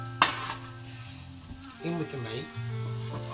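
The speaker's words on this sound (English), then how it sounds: "So I'm frying the onions. I'm just sautéing them." Onions sizzle steadily in a pan with meat for a chilli con carne, a sharp clatter early on as they go in, while someone talks over the frying.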